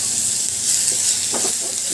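One large, finely chopped onion sizzles steadily in hot oil for a baby corn pepper fry, with a soft stirring scrape partway through and no voices.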